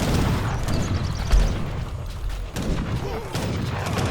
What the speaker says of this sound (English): you got the Minutemen and the Legionario Musketeers right there to shoot at them